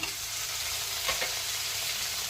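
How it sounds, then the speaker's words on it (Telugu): Ginger garlic paste and tomato pieces fry in hot oil for a dried-fish brinjal curry, a steady close sizzle with a brief stirring scrape midway, and no voices. "పచ్చివాసన పోయేంత వరకు అల్లం వెల్లుల్లి పేస్ట్ని కాసేపు నూనెలో వేగనిద్దాము. ఇప్పుడు టమాటా ముక్కలు వేసుకుందాము."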